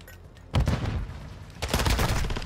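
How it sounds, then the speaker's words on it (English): Rapid bursts of automatic gunfire crackle in a Call of Duty Modern Warfare 2 match, with dense volleys arriving in two loud waves over low game ambience. "Stop shooting me."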